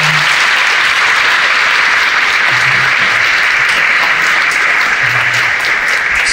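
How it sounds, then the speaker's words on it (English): Conference audience applauds after an opening keynote on machine learning, a loud continuous wash of many hands clapping that holds steady without pause or talk. "a big round of applause to Misha"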